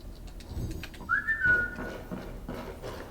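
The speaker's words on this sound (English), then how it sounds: "I can't whistle that low. I can only whistle high pitched for some reason." A single short, high whistle rises and holds briefly, moderately faint over quiet background noise in a Skyrim Nolvus playthrough.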